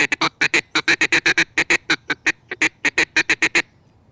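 A duck call blown to imitate an Australian Black Duck feed call gives a rapid run of about two dozen short, clipped quacking notes in an uneven chatter, loud and close, ending in silence.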